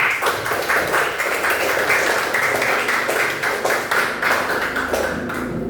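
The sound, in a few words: group applause for everyone after a class presentation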